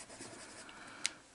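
Coloured pencil blends two colours on paper with a quiet, continuous scratchy rubbing, and one sharp little tick near the end.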